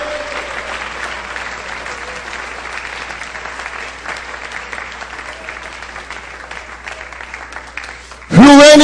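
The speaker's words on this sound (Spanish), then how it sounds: "Alábale, apláudele," A church congregation applauds steadily for several seconds during worship, a dense even wash of clapping that ends abruptly as a loud voice cuts in.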